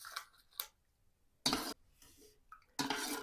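Several short bursts of scraping and clinking of a spoon stirring sugar into water in a cup for homemade kvass, separated by quiet pauses.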